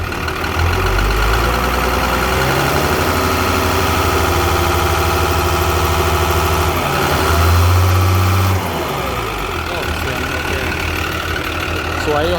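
A long-nose ten-wheel trailer truck's engine runs at a loud, close, rumbling idle, then revs up in a surge before settling back to idle.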